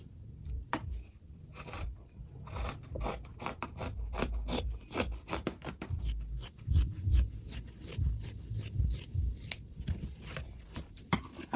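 Scissors snip steadily through fabric while a detachable three-step flared skirt is cut out, giving a close, rapid series of crisp shearing strokes with soft rubbing between them and no talking.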